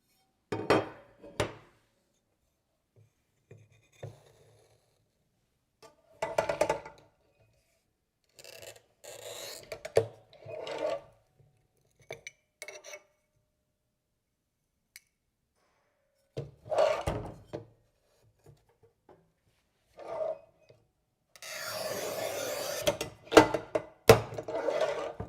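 Glass tile being scored and snapped on a Montolit Masterpiuma P5 manual tile cutter over a rubber mat, heard as repeated short scraping and gritty rasping strokes with brief sharp clicks, separated by pauses and ending in a longer harsh scrape.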